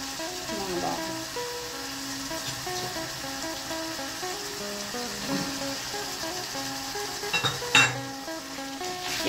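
Pork belly and pork frying with salt in a pan for a spicy Thai stir-fry, a continuous sizzle with clinks and scrapes of stirring, a louder clatter near the end, and a voice talking intermittently.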